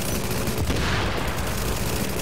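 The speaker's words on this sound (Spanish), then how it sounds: "Con todos esos disparos atrayendo la atención de los Rangers, vas a tener una bonita y enorme diana en la espalda." Sustained gunfire from the video game Tom Clancy's The Division, a dense continuous barrage of rapid shots with booming low end, loud throughout and with no talking.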